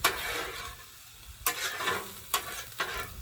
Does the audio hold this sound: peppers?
yes